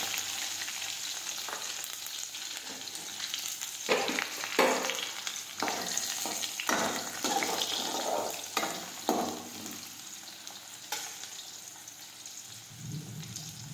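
Chopped onions, green chilies and dried red chili fry in a pan for dal, giving steady loud sizzling with repeated bursts of crackle and spatula scraping as they are stirred.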